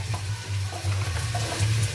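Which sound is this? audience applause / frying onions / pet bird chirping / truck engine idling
frying onions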